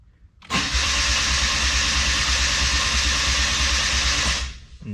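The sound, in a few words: Suzuki Cappuccino engine cranking on Microsquirt ECU, not starting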